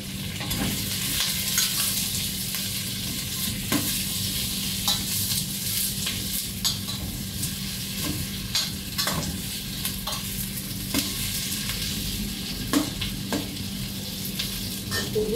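Sliced onion strips sizzle in a pan as they fry for a smoked pork chop stew, a steady crackling fry close by, with scattered sharper pops and the clatter of stirring throughout.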